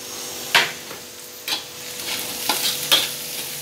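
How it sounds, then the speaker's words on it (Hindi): Chopped onions frying in oil in a pan: a loud continuous sizzle with several spatula scrapes and knocks against the pan at irregular intervals, close and without talk. "अब इसको गोल्डन ब्राउन होने तक भूनेंगे।"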